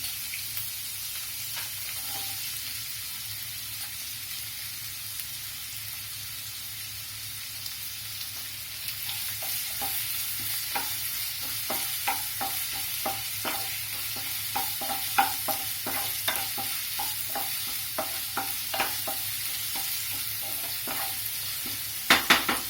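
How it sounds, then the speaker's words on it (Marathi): Capsicum for corn pulao is stirred and sautéed in a pan, with a steady broad sizzle. From about the middle onward, a quick series of spoon scrapes and clicks comes close and clear, ending in a few louder knocks. "आता त्याच्यामध्ये आपण शिमला मिरची घालणार आहे"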